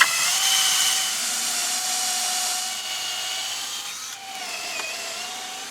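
A power drill bores holes into the undersides of wooden boards at a bee yard, its steady whine running continuously and loud with a brief dip near the end.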